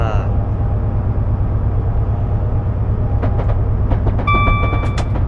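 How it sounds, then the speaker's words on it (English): A loud, steady rumble of a passing Class 70 locomotive-hauled train in South Wales with rhythmic clatter, then bright squealing tones from the wheels or brakes toward the end. "Oh, look, another train."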